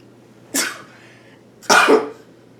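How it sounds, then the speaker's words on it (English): A person sneezes twice in a quiet room, two sharp loud bursts about a second apart with a faint hum beneath. "Okay, I have to sneeze."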